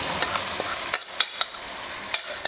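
Marinated chicken frying in butter with onion in a pan, a continuous close sizzle broken by several sharp spoon clicks and scrapes against the pan.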